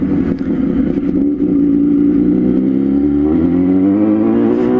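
A four-cylinder sport motorcycle engine roars loud and close in a sustained, smooth drone, its pitch climbing gradually as it revs, with no talking.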